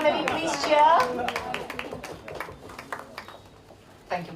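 Audience at a society achievers celebration claps and cheers in a lively burst, with sharp hand claps and shouts over ongoing talk and a brief renewed swell near the end.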